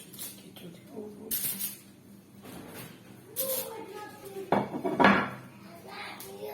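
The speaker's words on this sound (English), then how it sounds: "then we put it in the pan to take it to the oven." A hamburger being placed into a pan for the oven, with clattering of a metal pan and utensils, scraping, and a louder clunk near the end, under some speech.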